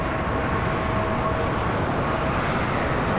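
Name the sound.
United Boeing 737-800 airliner arriving at Charlotte airport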